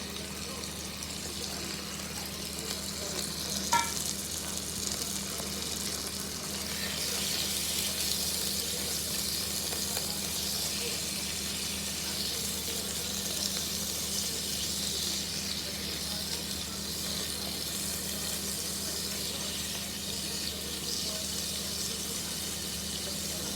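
Chicken pieces sizzle and fry in a pan with vegetables for a Filipino ginisang gulay, a steady broad hiss running continuously at moderate loudness with a brief clink early on.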